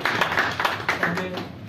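An audience at a mushaira poetry gathering gives a brief burst of quick, rhythmic hand claps, with a voice starting beneath them as they end.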